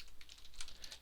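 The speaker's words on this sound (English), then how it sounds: "I'm having trouble typing" Fast typing on a computer keyboard while writing Java code, a quick run of light clicking keystrokes in short clustered bursts, close and fairly quiet, with no talking.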